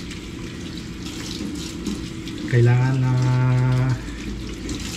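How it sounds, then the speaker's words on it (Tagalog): Water runs from a sink tap, rushing in fairly loud and close for about a second and a half before it stops, with someone talking before and during the flow. "Ang hirap i-adjust yung tubig."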